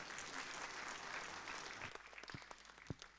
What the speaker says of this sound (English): please, a big hand of applause for the esteemed panelists